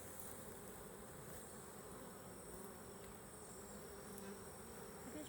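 Honey bees swarm around the bottom of a hive during an inspection, a steady close buzzing drone that fills the whole clip without breaks, with no voices.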